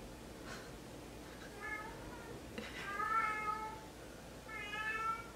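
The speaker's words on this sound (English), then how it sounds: "He's an outdoor cat, so literally when he goes out, it's always like this when he comes back in. He's so vocal." A vocal outdoor cat meows loudly and repeatedly indoors after coming back in, several drawn-out calls rising in strength, the last two the loudest, close to the listener with no talk.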